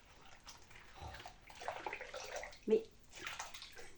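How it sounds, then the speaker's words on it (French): A makeup sponge is rinsed under running water, with soft splashing and trickling through most of the moment and one brief louder splash near the end, while someone speaks quietly over it. "je vais rincer l'éponge"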